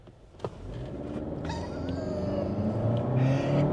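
A Honda Accord fitted with Hondata traction control launches at full throttle on a wet surface. After a short sharp knock, the engine note climbs into a rising, strained whine, growing louder and steadier, heard close up.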